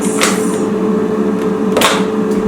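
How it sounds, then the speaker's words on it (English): A kitchen air fryer runs with a steady, even fan hum. Two brief sharp clicks or clatters cut through, with no talking. "If you hear that noise, Bradley is doing something in the air fryer"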